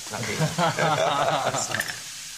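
Vegetables sizzle and hiss in a hot pan with sauce, a steady frying crackle continuing beneath someone talking nearby.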